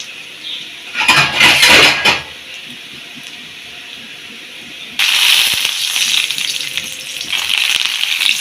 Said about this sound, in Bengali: চারটে শুকনো মরিচ এগুলো বাজিয়ে নিতে হবে